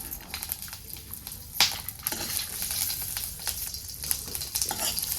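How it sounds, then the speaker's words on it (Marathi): Green chillies and garlic frying in a little oil give a close, crackling sizzle with irregular pops, spatters and occasional spoon scrapes throughout. "हिरव्या मिरच्या लसूण दोन्ही पण टाकून घेतले आणि थोडस तेल ओतते ह्याच्यावर"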